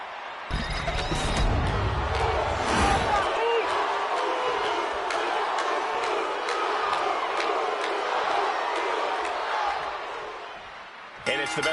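Arena crowd at a live wrestling show roaring and chanting for Jey Uso, a loud sustained swell opening with sharp impacts, with commentators talking over it.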